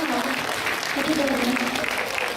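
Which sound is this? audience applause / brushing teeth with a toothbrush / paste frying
audience applause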